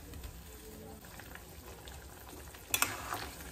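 Taro and potato curry being stirred in a pan, a soft low bubbling simmer with faint scraping, then a brief louder clatter of the spoon near the end.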